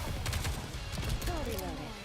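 A squad's gunfire in the mobile shooter NIKKE Goddess of Victory crackles in rapid overlapping bursts at close range, and a voice speaks briefly over the shooting near its end.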